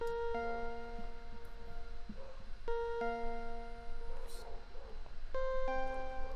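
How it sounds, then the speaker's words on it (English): Bright synth poly keys, a preset called Caillou keys, play a slow melody of sustained chords, each struck chord ringing out before the next, with no voices. "After that, I added a sound that I use a lot, synth poly key called Caillou keys,"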